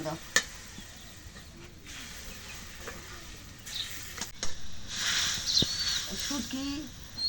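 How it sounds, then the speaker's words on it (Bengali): Spice paste fries in a pan while being stirred, a soft, uneven sizzle with scraping strokes that swell louder toward the end, and a voice speaks faintly now and then. "মশলাটা কষানি হয়েছে এখন তরকারিটা দিই"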